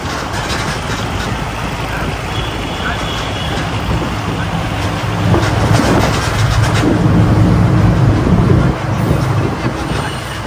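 Busy platform ambience at Howrah railway station, with the steady rumble of a local train and station noise, plus background voices and a louder passage near the end.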